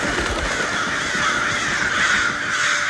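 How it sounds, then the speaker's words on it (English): Crows cawing in a TV show scene, repeated harsh caws overlapping one another against a busy outdoor background, fairly loud and steady with no speech. "These two come up with a genuinely good idea as to how to keep the birds away from eating all of their crops, and Daryl just comes along and kills it"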